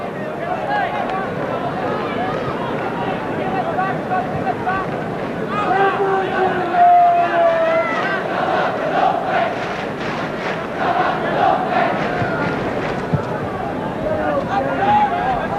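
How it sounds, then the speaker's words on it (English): A football crowd at an Arsenal match on a sunny day, a broad, steady roar of many voices rising into cheering and chanting, with a commentator talking over it throughout. "the crowd are enjoying it much more"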